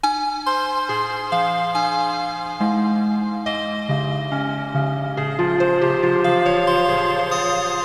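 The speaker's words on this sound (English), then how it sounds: "this is just a preset actually from our factory library that's FM bells" Randomized FM bell arpeggio from a factory synth preset in Bitwig, bright stepping bell tones changing pitch and timing steadily, loud and alone with no voices.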